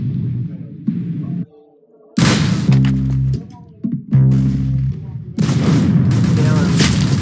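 A banana gun fires in the video game Arsenal with loud, booming shots in a couple of bursts. Excited players talk over the gunfire close up.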